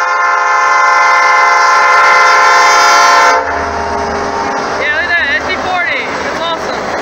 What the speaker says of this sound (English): that was an old SD40-2 laden